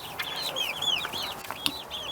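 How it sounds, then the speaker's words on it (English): Chickens and a rooster cluck and chirp steadily at close range in a garden, high overlapping calls over a soft outdoor background, with no talking. "Let's do it, little chickens."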